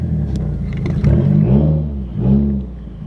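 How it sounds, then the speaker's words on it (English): Loud, close revving of a Subaru WRX with a straight-piped exhaust, a deep rumbling engine note that swells in two strong surges, with no talk over it. "You can hear my exhaust like so much louder."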